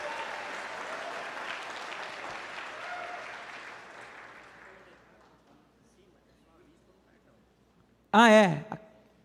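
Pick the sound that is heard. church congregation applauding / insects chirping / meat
church congregation applauding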